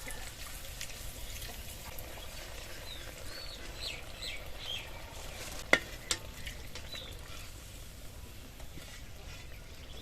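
Rice-flour and egg batter fries in a hot kadai with a steady, close sizzle that holds throughout, broken by a couple of sharp clicks near the middle; no one speaks.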